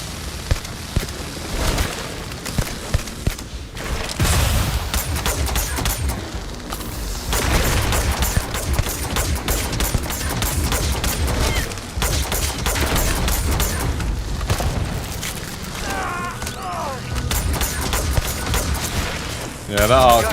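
An arc welder gun fires in the video game Starfield, with dense, repeated bursts of booming, crackling shots at close range, while a person talks over the gunfire.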